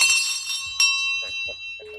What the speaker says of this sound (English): let me give you Kuro's bell